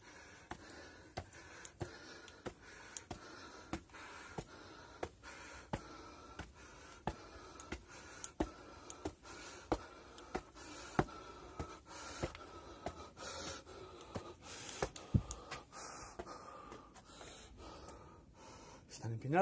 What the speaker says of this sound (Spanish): Eso que veis es mi respiración.